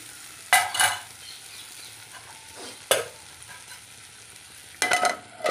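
Coconut, tomato and green chilli fry in a pan for coconut chutney, a low sizzle broken by several loud scraping stirs of a spoon against the pan, with no talk.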